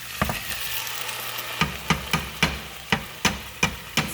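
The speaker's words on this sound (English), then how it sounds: "I'm going to put the sauce in with those onions and garlic." Sauce added to onions and garlic frying in a pan for calzones, stirred with a steady series of sharp scraping strokes over a soft sizzle and a low hum, close up, with no talking.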